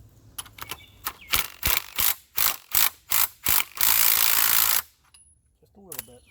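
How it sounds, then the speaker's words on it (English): A ratchet cranks down a spring compressor during a 2008 Pontiac G5 strut bearing replacement, giving a series of about nine close, rhythmic clicking bursts followed by a longer run of ratcheting, then quiet with faint handling noise. "This is where you may have to crank down a little bit more. Looks like what I'm going to have to do on my spring compressor."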